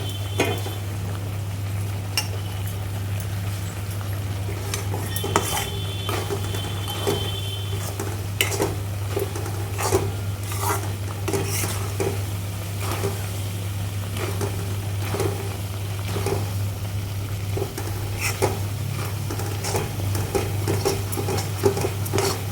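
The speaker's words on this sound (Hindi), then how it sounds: "साथ ही साथ में इसको चलाते जाएंगे" A sweet is stirred in a pan with sugar syrup for Janmashtami, a spoon scraping and clinking against the metal over a soft sizzle and a steady low hum, repeated strokes throughout.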